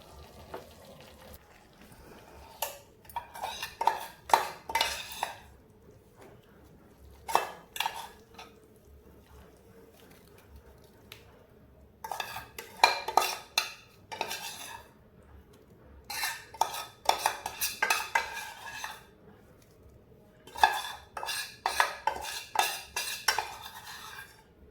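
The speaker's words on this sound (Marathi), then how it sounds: "ही मेथी टाकल्यानंतर परत चमच्याने मिक्स करून घेते." A spoon mixes roasted fenugreek powder in ghee in a pan for fenugreek laddus, making bursts of clinking and scraping metal strokes separated by short pauses, close and moderately loud over a faint low background.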